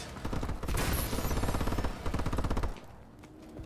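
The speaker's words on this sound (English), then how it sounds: "Oh, that's a turret." Turret gunfire in the Call of Duty Advanced Warfare video game, a loud rapid automatic burst of closely spaced shots that stops and then resumes for a second stretch before cutting off.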